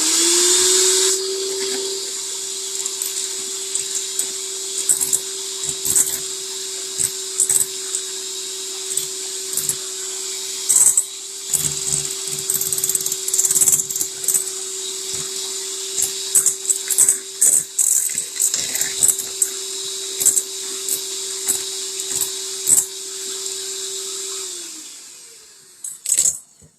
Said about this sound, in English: put the eggs in there first and whip those eggs up so they're real fluffy. Now this is going to be a little noisy